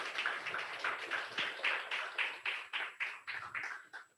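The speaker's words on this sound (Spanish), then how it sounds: "Un aplauso para Jennifer." A church congregation claps together in a welcome during a Sunday worship service, the rhythmic hand claps steady and close for several seconds with no talking over them.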